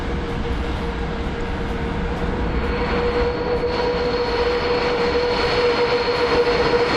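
An IL-96 airliner rolling in a flight simulator game, a steady loud jet engine roar with a sustained whine tone, continuous and close throughout with no voices.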